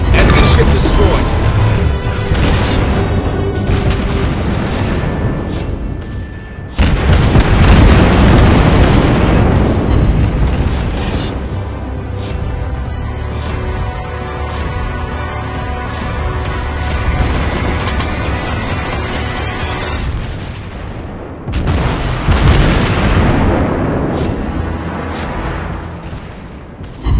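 Ship battle in World of Warships Blitz with a Flandre, heavy booming explosions and rumbling gunfire rolling almost continuously, loud and dense, with bursts of impacts and a game voice announcing events over the action.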